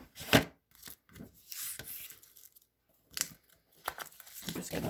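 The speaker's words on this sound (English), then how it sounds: "I'm just going to flip the cards" Cards being flipped over during a sight-word reading lesson, heard as a few sharp papery flicks and rustles spaced irregularly across quiet gaps, close and fairly soft.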